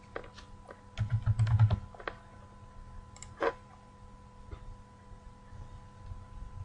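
Keys clatter on a computer keyboard as letters are entered into a contact database search: a quick close burst of keystrokes, then a few scattered single taps and a louder click in a quiet room.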